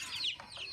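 A white hen gives a brief soft cluck nearby in a farmyard poultry setting, a single short call over quiet background.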